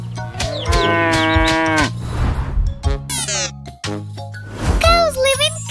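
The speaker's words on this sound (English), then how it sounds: "It's a cow." A loud cartoonish cow moo rings out over bouncy children's nursery-rhyme music, with a voice and other playful sound effects around it.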